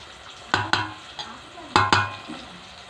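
A spoon scrapes and clatters through onions with salt and chili powder in a pan, in a few distinct stirring strokes over a soft, continuous sizzle.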